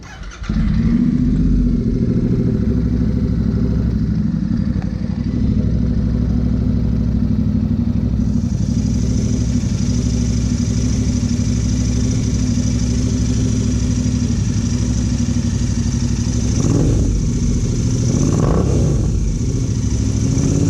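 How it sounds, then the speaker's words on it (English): Interceptor motorcycle fitted with an SS Moto Corp performance exhaust with no dB killer, idling with a loud, steady, deep rumble close by, then two short throttle blips near the end. "Just starting it for the exhaust note, this bike doesn't have a decibel killer."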